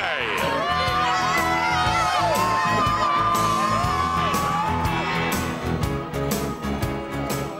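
A large crowd at the Windows Vista launch event in Covent Garden, London, cheers, whoops and shouts continuously, loud and close, with children's yells and excited voices mixed in throughout.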